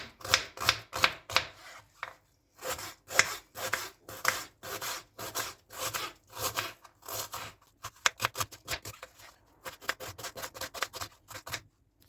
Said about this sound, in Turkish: bir tane orta boy soğanı küp küp doğrayalım.